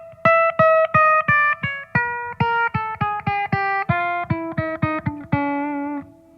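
Clean electric guitar notes plucked one after another in a chromatic run, each stepping to the next pitch evenly and deliberately, ringing briefly before the next.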